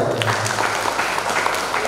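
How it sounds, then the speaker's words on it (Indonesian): A seminar audience breaks into sustained applause, a dense, even wash of many hands clapping at once that holds steady throughout with no voices on top. "Tepuk tangan untuk kita semua."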